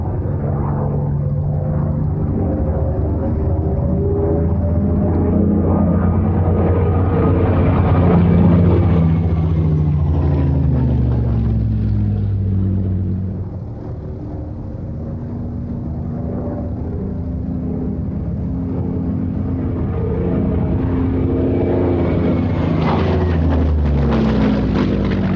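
A Daimler-Benz engined Messerschmitt 109 fighter drones steadily overhead, its engine tone swelling and fading with shifting pitch over a long continuous pass, fairly loud and unbroken.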